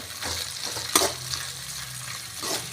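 Whole spices such as cinnamon and cloves sizzle in hot oil for tempering while a spoon scrapes and stirs the pan, a steady close crackle with a clink of the utensil.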